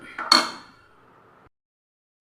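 A metal lid set down onto a pot of idli batter with a sharp clink, followed by a brief fading ring and quiet, then another clatter at the very end.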